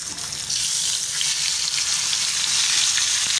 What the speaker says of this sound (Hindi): अब रह गए 1 पीस, इसको भी हम फ्राई करेंगे।